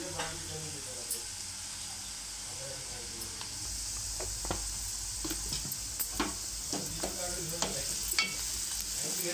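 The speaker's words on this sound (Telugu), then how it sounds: "ఆయిల్లోనే వేసుకొని ఎండు మిరపకాయలు, వెల్లుల్లి దంచుకున్నాం కదా, ఆయిల్లోనే వేసుకోవాలి" Dried red chillies and crushed garlic fry in hot oil, giving a continuous soft sizzle and hiss with occasional stirring scrapes and spits up close.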